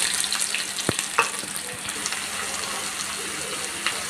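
Sliced onions sizzle in hot oil in a pan for a Telugu onion chutney, a steady bright frying hiss with a few sharp pops and spatters, close and continuous with no talking.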